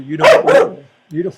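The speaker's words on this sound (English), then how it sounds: "That's my dog" A dog gives two quick, close barks in a row followed by a softer short yip, with a brief word of speech overlapping.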